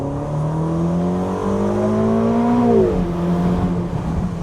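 A turbocharged Ferrari California T engine hums steadily inside the cabin, its tone rising under acceleration, then dropping sharply as it shifts gear.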